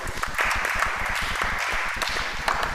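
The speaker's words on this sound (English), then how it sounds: "Can we give him a round of applause?" Audience applause for a Deputy Vice Chancellor at a digital literacy workshop, steady dense clapping throughout, moderately loud and close, with no talk over it.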